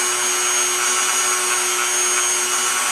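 A Dremel rotary tool holds a steady high-pitched whine while buffing a Glock 20 SF magazine with Blue Magic polish. The sound is close, constant and has no talk over it.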